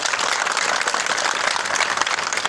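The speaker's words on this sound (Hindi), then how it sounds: "तालियों से सर का स्वागत करेंगे।" An audience at a public event applauds to welcome a member of parliament, a dense, steady wash of many hands clapping at close range throughout, with no talk over it.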